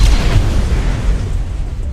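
A loud, booming explosion in Ark Survival Evolved blasts into a base, a heavy low rumble that stays strong and sustained for about two seconds with no talk over it.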